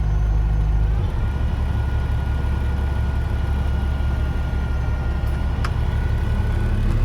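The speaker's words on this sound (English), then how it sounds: "Oh, well, trailer's raising." A dump trailer bed raises behind a Peterbilt 359 truck whose diesel engine runs steadily and loudly throughout, a constant low idle rumble with no voices.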